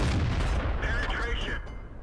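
Tank cannon fire in World of Tanks, a loud broadband boom with heavy low rumble lasting through the short span, battle noise trailing off toward the end.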